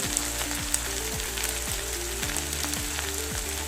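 Spicy potatoes frying in a pan give off a steady, dense sizzle that holds at an even level throughout, with a few faint clicks on top and no voices.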